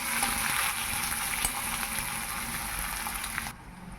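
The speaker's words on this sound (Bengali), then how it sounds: "এবার পেঁয়াজ ভালো করে ভেজে নেব একটু বাদামি বাদামি মতন হয়ে আসলে" Chopped onions frying in oil in a pan make a continuous bright sizzle, close and steady, cutting off just before the end without any talking.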